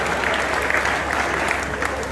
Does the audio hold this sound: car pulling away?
no